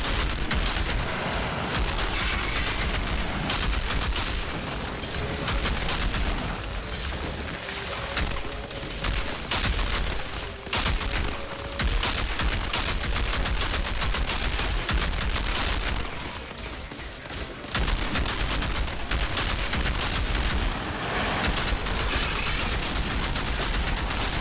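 A deployed turret keeps up steady rapid fire in the shooter Outriders, a dense, unbroken barrage of loud shots mixed with explosions that lasts the whole stretch and almost never lets up.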